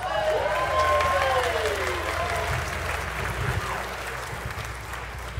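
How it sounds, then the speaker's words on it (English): Audience applause at a barn dance fills the hall, a steady wash of clapping with whoops and cheers rising above it, continuing unbroken and slowly easing. "Give yourselves a big round of applause just for leaving the house."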